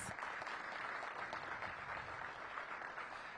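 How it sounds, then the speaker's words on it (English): Audience applause at a downtown revitalization event with city leaders, a steady, even wash of clapping held for the whole stretch, faint and distant, with no voices over it. "Please give him a big round of applause."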